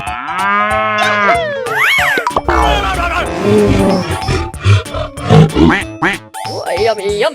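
A cartoonish cow moos in a 3D animal slide video game, a drawn-out tonal lowing amid bright game music, sound effects and other animal calls, with an excited voice talking over it.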